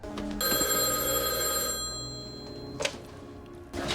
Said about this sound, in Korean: 그런데 때마침 걸려온 범인의 전화.